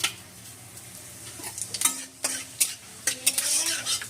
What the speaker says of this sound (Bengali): জিরেটা ভালো করে ভেজে নিচ্ছি একটু